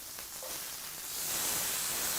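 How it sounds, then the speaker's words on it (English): Steady sizzling hiss from food frying in a hot cast iron pan, a constant crackling wash of noise that swells slightly louder toward the end. "Always wanting to hear a constant audible sizzle."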